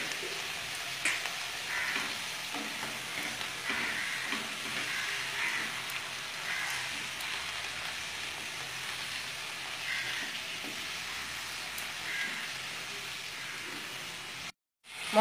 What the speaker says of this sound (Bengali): এবার বাঁধাকপি এই মশলার সাথে খুব ভালো করে কষব, এই সঙ্গে আলুগুলো দিয়ে দিচ্ছি